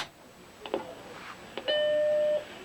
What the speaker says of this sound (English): here is the good old boot up sound